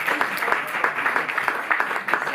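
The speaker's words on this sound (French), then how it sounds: "C'est l'écriture de Denis qu'on applaudit là" Steady, fairly dense audience applause after a literary reading by Denis Podalydès at Reid Hall in Paris, continuous clapping without voices for the whole stretch.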